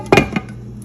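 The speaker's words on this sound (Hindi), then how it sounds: "अब इसको भी मैं थोड़ी देर के लिए ढक दूंगी।" A lid is set on a pot of halwa with two quick metallic clinks close by, followed by quiet.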